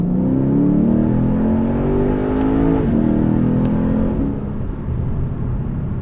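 Lexus RC F coupe with a naturally aspirated 5.0 V8 revving hard in second gear, its engine note climbing steadily under load, a brief shift-like dip midway, then settling into a steady drone.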